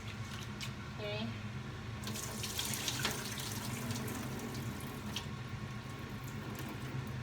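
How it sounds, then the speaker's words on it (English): Hot water runs steadily from a tap or kettle into a cooking pot for one-pot rice, a continuous close splashing stream with brief clinks, with no talking over it. "now I'm gonna add the hot water"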